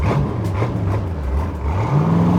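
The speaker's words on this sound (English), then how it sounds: "Nothing sounds like big block." A 1967 Chevrolet Corvette in Marina Blue with a big-block V8 revs up close. It gives a deep, throaty rumble that dips, then climbs in pitch near the end, with no one speaking.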